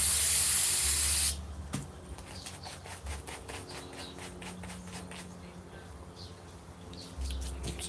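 A loud, close hiss of cleaner sprayed onto carburetor parts from a 1995 Kawasaki Ninja 900, lasting about a second before cutting off. Scattered clicks and handling noises follow, then a brief second spray near the end.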